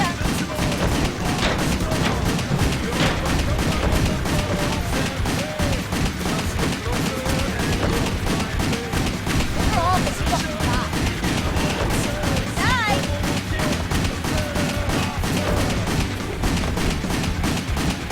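Dense, continuous gunfire in the action video game WET, with rapid, rhythmic shots and impacts running loud and unbroken throughout, mixed with game music and effects.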